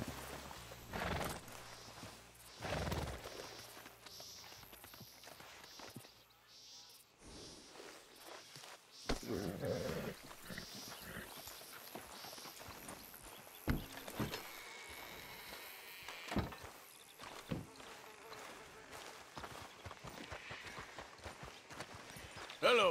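Horse in Red Dead Redemption 2 walking with clip-clop hooves and snorting as it is brought to a stop and hitched, scattered footsteps and tack rattles, with a voice speaking now and then.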